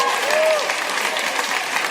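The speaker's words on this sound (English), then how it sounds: "I love that's what gets the applause." Audience applause in a radio show studio audience, a steady dense clatter of clapping filling the whole moment, with a brief whistle-like tone near the start and voices faintly mixed in.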